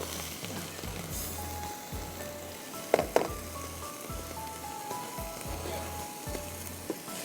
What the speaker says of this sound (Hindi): हम चिकन चॉप्स टिक्का मसाले को अच्छी तरह आपको भूनना है।